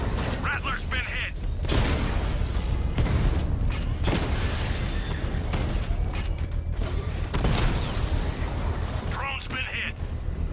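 In Batman: Arkham Knight, a drone is hit by an explosion, with several heavy booms and bursts over rumbling combat noise, while voices talk throughout.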